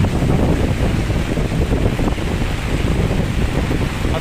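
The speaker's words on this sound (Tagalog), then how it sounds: "At patuloy pa po na lumalakas yung hangin at sinasamahan po rin ng malaking patak ng ulan." Strong wind gusting with rain over flooded Manila Bay: a loud, continuous roaring rush buffeting the microphone, steady and unbroken for the whole stretch with no clear voices.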